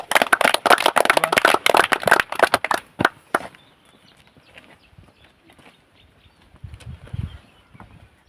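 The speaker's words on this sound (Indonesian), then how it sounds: "Berikan aplaus untuk kelompok" A room of people applauding a presenting group, dense clapping for about three seconds, then thinning to scattered faint claps and quiet room noise.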